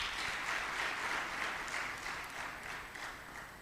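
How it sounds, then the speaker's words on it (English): An expo audience gives a round of applause, a steady wash of many hands clapping that fills the room at moderate distance and fades slightly toward the end, with no voices over it. "Can we also give them a round of applause?"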